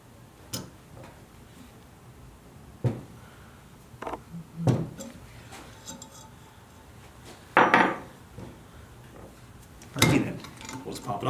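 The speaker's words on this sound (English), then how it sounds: "we're gonna pop off this circlip and get the arm, the actuator arm off of the flapper valve arm" A circlip is pried off the actuator arm where it joins a turbo flapper valve arm, giving a scattered series of small metallic clicks, taps and tool clinks at close range.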